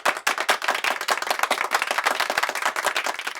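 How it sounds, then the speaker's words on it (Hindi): Dense burst of audience applause greeting a comic scene at a Hindi stage performance, many hands clapping rapidly and loudly with no pauses, nearby and filling the room without talk. "तालियां।"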